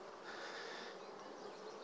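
A mass of honey bees drones around a hive frame set down on its corner, a close, unbroken buzzing swarm sound heard alone throughout.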